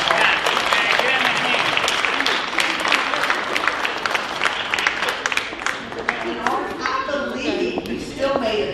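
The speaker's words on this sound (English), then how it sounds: "So let's give a big round of applause." Audience applause at a hall of fame ceremony at Agnes Scott College, dense clapping from a crowd in a hall that gradually thins toward the end.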